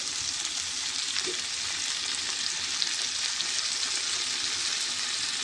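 Cumin paste hits a hot pan and sizzles, a steady, bright frying hiss that runs evenly throughout with a faint stir partway in.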